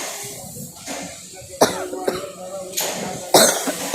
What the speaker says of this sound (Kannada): ಈಗ ಕೆಮ್ಮಿದೆ